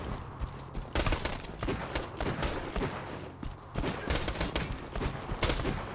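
Revolver gunfire in the Borderlands 2 video game, a rapid string of sharp loud shots in clustered bursts across several seconds, close and punchy over game noise.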